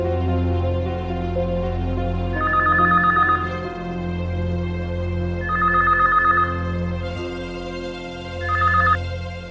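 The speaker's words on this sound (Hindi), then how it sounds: "घर का नंबर ट्राई करती हूँ।" A telephone call to a home number: dual-tone ringback bursts repeat three times at steady intervals over a sustained low background hum, moderately loud and with no talking.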